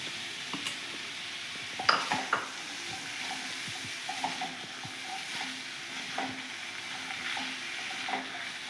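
Mixed vegetables for vegetable pulao sautéing in a pan, a soft steady sizzle broken by spoon scrapes and clinks against the pan as they are stirred.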